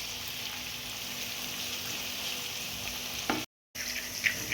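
Chopped onion frying in a pan for spicy mutton sukka masala gives a steady, soft sizzling hiss, cut by a brief dropout near the end, with no talking.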